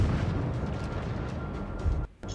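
Naval gunfire in World of Warships from a Wickes destroyer on the New Dawn map: a loud, rumbling artillery boom and rolling explosion, then a sudden cut to near silence and a brief tone.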